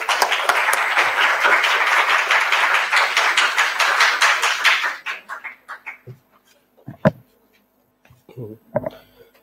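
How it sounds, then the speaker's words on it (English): Applause for a student startup team presenting a business plan at a campus event, dense and steady for about five seconds, then dying away into scattered claps and small room noises. "Big round of applause for the next group"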